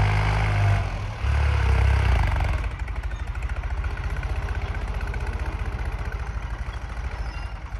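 New Holland 3630 Super 55 HP diesel tractor pulling an 11-tine tiller in a field, chugging steadily with a rapid rhythmic knock, a heavier rumble at first easing into an even thumping run.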